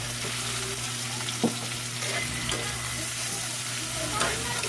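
Tofu frying with garlic in a pan, a steady loud sizzle with occasional scraping stirs and small pops, close up and without talk.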